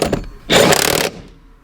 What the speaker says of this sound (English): we're going to tighten this bolt down, which is an 18mm